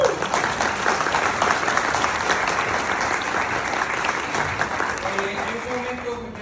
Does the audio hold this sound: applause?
yes